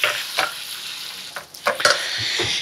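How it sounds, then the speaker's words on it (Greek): Ground meat being sautéed with garlic and onion in a pan, with soft sizzling broken by scraping stirs every fraction of a second, close and fairly loud, no voices. "Σοτάρουμε το σκόρδο και το κρεμμύδι μαζί. Και προσθέτουμε το κιμά."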